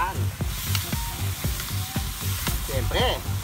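A pot of crab and squash coconut stew boils steadily, giving off a close, continuous bubbling sizzle with regular soft pops.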